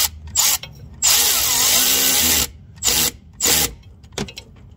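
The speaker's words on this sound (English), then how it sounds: "He's just gonna go ahead and tighten on those clamps right quick." A power tool tightens hose clamps on a car's coolant heater core bypass, whirring in several bursts of varying length, one long run and a few short ones, close and loud.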